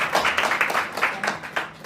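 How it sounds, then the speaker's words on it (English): Audience applause at a media briefing for the launch of the Mzansi National Security Association, a brief patter of clapping from a small group, fairly close and moderately loud, fading slightly toward the end. "Let's just give a round of applause."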